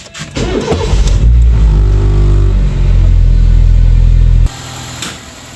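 A car engine with oil sludge inside starts and runs loudly up close, idling with a deep steady rumble before cutting off abruptly near the end.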